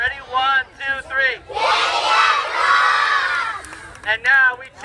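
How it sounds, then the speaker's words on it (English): A group of school children at Cantiague scream a chant together in one loud, sustained burst lasting about two seconds, with adult speech before and after close by. "I want you to scream Cantiague Rocks."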